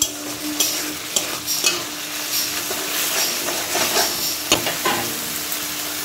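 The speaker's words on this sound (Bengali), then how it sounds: "এবার একটু জোর আজে ভাজবো।" Fish frying in a pan of oil over high heat, a steady crackling sizzle with occasional stirring scrapes and pops, close by and without talk.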